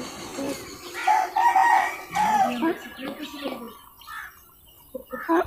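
An Aseel hen clucks and calls close by, its voice rising in a few quavering bursts with softer clucks in between, while someone talks over it.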